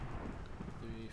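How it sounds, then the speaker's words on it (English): Rain and thunder in a video game fill the scene as a dense, steady wash of falling rain with low rumbling underneath, continuous and fairly loud throughout. "the rain is driving me crazy in this"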